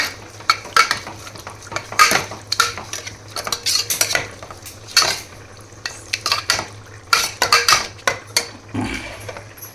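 A spoon stirs curd into softened tomatoes in a metal cooking pot, scraping and clinking against the sides in quick, uneven bursts, close and fairly loud with no voices.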